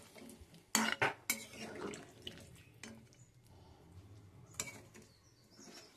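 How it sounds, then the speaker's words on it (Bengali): Chicken, spices and water are stirred together in a cooking pot, a utensil scraping and clanking against the metal in a few sharp knocks followed by quieter scraping. "ভালোভাবে সবগুলোই মিশিয়ে নেব"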